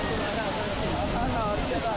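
Dhangar waterfall near Badlapur roaring steadily, a dense broadband rush of falling water heard up close throughout, continuous with no breaks.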